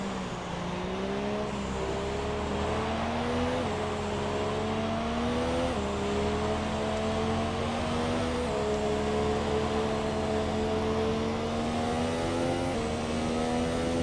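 Formula One engines from F1 2017 drone at steady, moderate revs while circling behind the safety car in Canada, with a sustained tonal hum that shifts pitch slightly in small steps as gears change, continuous and fairly loud with no voices.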